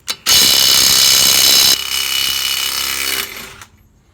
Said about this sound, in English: That works a lot better because it stops the wrench after it feels it breaking loose.